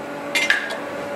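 A spatula scrapes under a saffron crêpe to loosen it from the pan, a short scraping clink or two against the metal over a faint steady hum.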